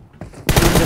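Rapid gunfire from a PUBG match, a dense, loud burst of shots that erupts partway through and continues steadily to the end.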